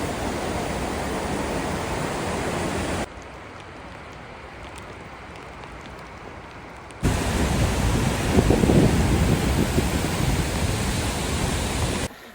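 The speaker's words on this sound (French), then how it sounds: "La pluie." Rain falls steadily during a hike near a waterfall in Iceland, a dense broadband hiss that drops softer midway and then returns louder and closer.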